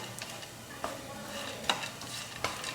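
Cashews, almonds and pistachios are dry-roasted in a pan over low gas and stirred continuously, giving soft scraping and faint sizzling with a few sharper clinks of the spoon against the pan.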